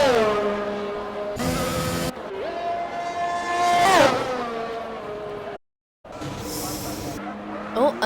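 An F1 car leaving the pits in an F1 racing game, its engine whining and rising in pitch as it accelerates, a loud close revving sweep with brief cuts and tire noise.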